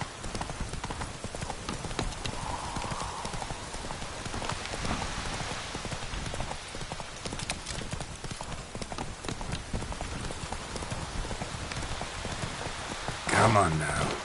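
Geralt's horse Roach trotting in The Witcher 3, steady rhythmic hoof clip-clops under a constant hiss of falling rain, with a short louder burst near the end.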